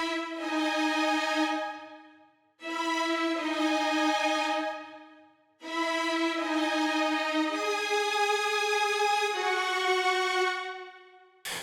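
Layered string parts from a music production play alone, sustained harmonic chords swelling in three phrases separated by short gaps, with no drums or voice.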